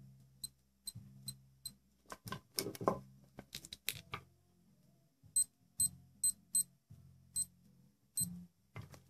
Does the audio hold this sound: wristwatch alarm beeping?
yes